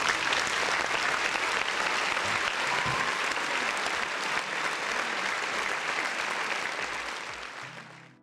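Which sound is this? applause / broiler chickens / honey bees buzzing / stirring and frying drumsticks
applause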